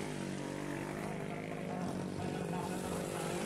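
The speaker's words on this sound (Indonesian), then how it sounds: "Acara balap taksi motor ini pun sangat meriah karena berlangsung di tengah sawah berlumpur." Motorcycle taxis loaded with sacks of grain race through a slippery, muddy rice field after harvest, their engines producing a steady, dense drone that stays loud and unbroken throughout.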